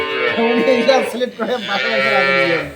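A dairy cow gives a loud, drawn-out moo close by, low and harmonic, rising and falling twice over a couple of seconds.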